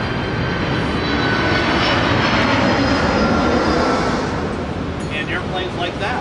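A Wright aircraft engine runs with a steady, loud, broadband roar that holds unbroken throughout, with faint higher tones toward the end.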